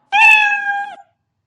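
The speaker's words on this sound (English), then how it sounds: "when I click on the green flag, you can hear the sound meow." The Scratch cat meow sound effect plays once, a single clear, loud synthetic meow lasting just under a second, then silence.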